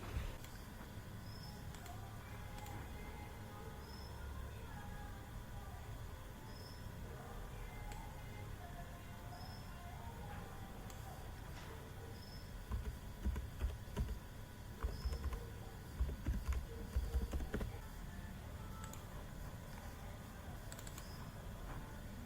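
Someone types on a computer keyboard, faint and distant, with a clear run of quick key clicks in the second half over a quiet background.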